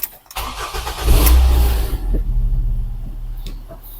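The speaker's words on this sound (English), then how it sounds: "Then I'm going to start the car and have a look." A 2008 Ford Fiesta with a manual gearbox cranks and catches around one second in, then settles into a steady idle with a low rumble, close by.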